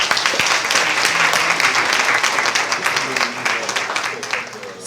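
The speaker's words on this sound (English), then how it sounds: "Let's give them one more round of applause" A crowd at an award ceremony gives a loud, dense round of applause for a performing group, keeping up steady clapping throughout with some cheering voices mixed in.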